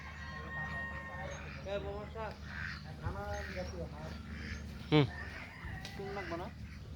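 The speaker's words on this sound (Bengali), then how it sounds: "এগুলো কি হাঁস একটু বড় বড়" Large ducks give repeated nasal quacking calls at mid distance over a low steady hum, while people talk nearby.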